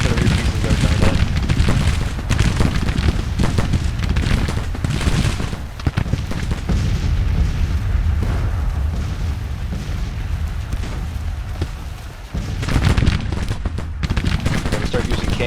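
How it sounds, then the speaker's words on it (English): Civil War artillery pieces firing Garnett guns in Grand Tactician, with booming cannon fire and rattling musketry blended into a continuous, dense battle din throughout, with a brief dip near the end. "Right in here with this artillery piece."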